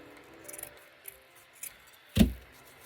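Scissors snip off a small ribbon bow loop on a rustic country Christmas wreath: a few faint light clicks, then one sharp, close crunching cut near the end, in a quiet room.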